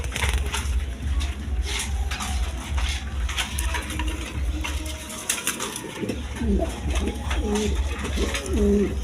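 Pigeons coo in soft repeated throaty bursts near the end, over a steady low hum and scattered clinks.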